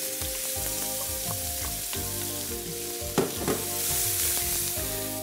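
Garlic and onion frying gently in oil with flour left from cooking hake, a steady close sizzle with a few crackles and a brief stirring clatter, over a melodic background tune.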